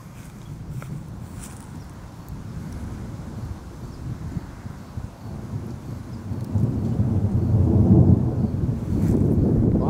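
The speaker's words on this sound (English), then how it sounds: "A lot of thunder, but I'm not seeing a lot of lightning." Thunder from a supercell storm over Cottonwood, California rumbles low and distant, building into a louder, rolling growl in the last few seconds amid wind and outdoor ambience.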